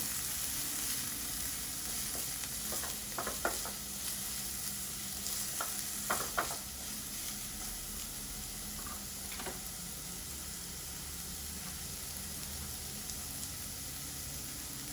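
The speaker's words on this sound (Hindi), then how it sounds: "फ्लेम थोड़ी सी मीडियम कर लेंगे और मीडियम करने के बाद एक 2 से 3 मिनट बाद आप इसको स्टर फ्राई कर लें।" Spring roll filling stir-fries on a medium flame, a constant close sizzle with a few scattered utensil clicks and scrapes early on, then a steady hiss alone.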